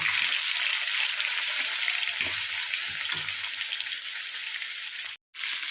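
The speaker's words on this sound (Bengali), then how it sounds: "মাংসটা একবারে ভাজা যাবে না দুবারে ভাজতে হবে আসলে লোহার কড়াইতে করছি তো" Chicken pieces fry in a small iron wok with a steady, close sizzle of hot oil and a few soft stirring knocks, ending in a brief cut to silence.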